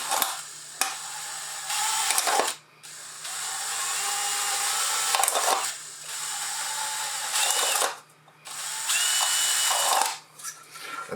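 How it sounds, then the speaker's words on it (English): A small drill bit whines as it bores holes into a plastic container for a DIY hydroponics setup, running in several sustained high-pitched bursts separated by brief pauses, close and loud. "So I've loaded up a little drill bit, and now I'm just going to start making some holes."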